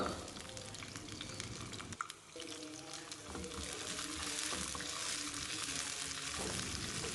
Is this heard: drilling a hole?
no